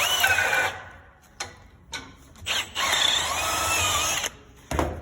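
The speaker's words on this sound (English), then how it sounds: "just clearance them with a 1/4 inch drill bit" A power drill with a 1/4 inch bit whines loudly, pausing and restarting several times in short bursts, with a high grinding edge as it cuts metal pins held in a vise.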